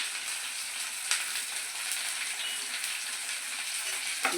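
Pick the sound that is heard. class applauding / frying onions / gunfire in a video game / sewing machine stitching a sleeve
frying onions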